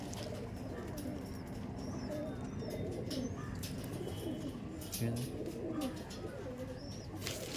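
Pigeons coo in low, repeated throaty calls against a busy background, with faint chirps and a murmur of voices.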